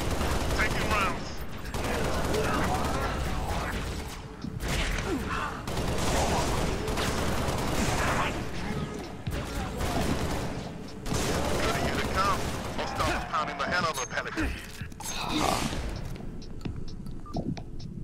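Sustained gunfire in Halo Reach, rapid bursts and volleys filling the scene, near and loud, with brief lulls between exchanges.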